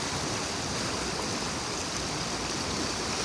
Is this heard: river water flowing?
yes